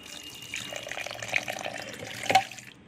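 Ice water trickles and splashes quietly into a container while making cow ghee, a soft irregular pouring with small clinks near the end.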